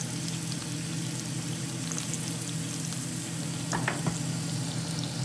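Shrimp fry in a hot pan for fajitas, giving a dense, even sizzle that holds for several seconds, with a few brief stirring clicks near the end and no talk.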